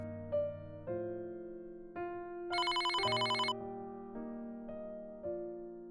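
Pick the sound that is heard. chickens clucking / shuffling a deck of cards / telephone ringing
telephone ringing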